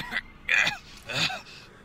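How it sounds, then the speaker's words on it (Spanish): Several short throat-clearing bursts with small gaps between them, close and moderately loud, heard during a Spanish-language playthrough of Tales of Zestiria. "Perdón, gente, por el carraspeo"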